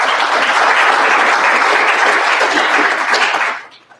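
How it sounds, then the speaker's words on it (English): A loud, dense round of audience applause at an event's opening session fills the room evenly, then fades out quickly in the last half second. "So I'd like to give them a round of applause."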